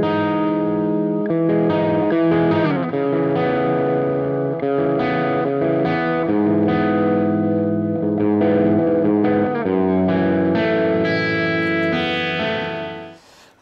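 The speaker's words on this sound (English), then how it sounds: "I used a simple digital amp sim, like a Marshall type sound, Marshall Plexi with an electric guitar, just DI'd straight in." Dry electric guitar plugged straight in and run through a digital Marshall Plexi-style amp simulator, playing a continuous, mildly overdriven chordal passage with a full, slightly muddy low-mid tone, alone and loud until fading at the end.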